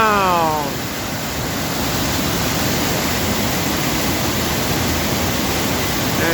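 A waterfall heard from the top, a loud, steady broadband roar that runs unbroken throughout, with a brief voice fading out at the very start.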